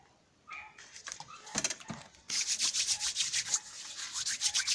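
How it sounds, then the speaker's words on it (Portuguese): Cooking oil being rubbed between hands before cutting a jackfruit: close, soft brushing friction, briefly after a quiet start, then steady rhythmic swishing strokes. "É só esfregar um pouquinho aqui na mão."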